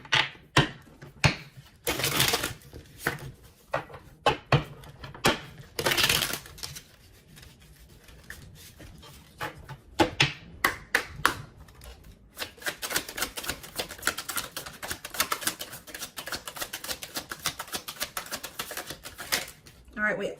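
Tarot cards being drawn and laid out, heard as rapid dry shuffling flicks and close tapping card slaps in quick bursts, while a person talks intermittently over and between them.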